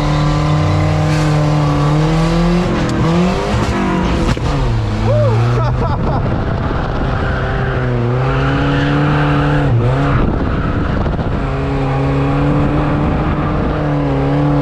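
A Volvo 740 converted to a ute revs hard with rising and falling pitch as tires squeal during drifting, loud and continuous with brief slides.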